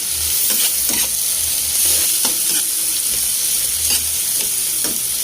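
Smoked fish (tinapa) is stirred and sautéed in oil with tomato, a continuous close sizzle broken by repeated scraping strokes of a utensil against the pan at an irregular rhythm.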